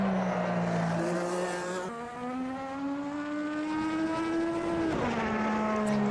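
A race car in Automobilista 2 runs under power, its engine whining through steady rising pitch sweeps, dropping abruptly on gear changes near two and five seconds, loud and close with no talk.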